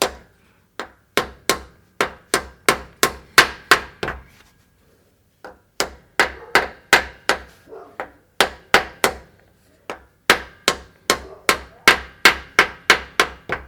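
Sharp metallic hammer taps in rapid, steady bursts, driving a rear pinion seal flush on a 105 Series Toyota Land Cruiser, with brief pauses between runs of strikes, close and fairly loud.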